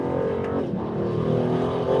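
A 2024 Aston Martin Vantage, a rear-wheel-drive car with more than 600 horsepower, accelerates at full throttle on a road or track, a loud, close, sustained engine roar that builds steadily with no voices.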